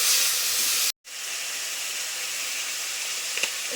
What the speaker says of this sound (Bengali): এদিকে মশলা কষতে দিয়েছি